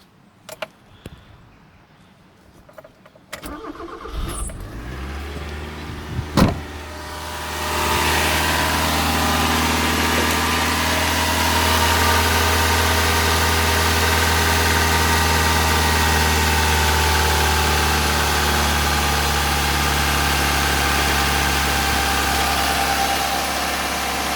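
A Mazda 323F's engine cranks after a few clicks and knocks, catches, then settles into a steady, close, low idle hum that runs on evenly with no voices.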